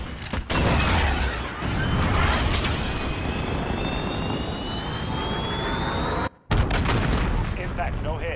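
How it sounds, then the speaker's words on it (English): Roaring jet-like rush of a cruise missile launching in Call of Duty: Modern Warfare, a loud sustained blast with rising whine and heavy rumble, briefly cut to silence before a renewed burst of noise near the end. "Cruise missile, go for launch."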